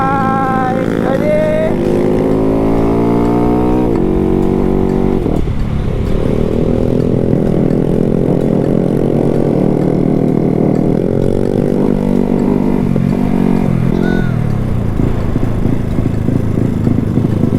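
A Honda Wave motorcycle ridden up the mountain road to Phu Thap Boek drones loudly and close, its engine pitch climbing and dropping repeatedly through gear changes and throttle shifts.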